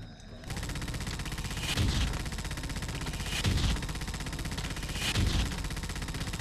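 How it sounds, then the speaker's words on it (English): Enemy gunfire in the video game Hostile Waters: Antaeus Rising, a dense continuous rattle of rapid shots with three heavier booming bursts spaced a couple of seconds apart. "I'm taking enemy fire."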